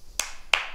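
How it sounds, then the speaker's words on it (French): Two crisp group hand claps ring out close by, evenly spaced, during a martial movement class game of following clap counts. "Trois fois dans les mains."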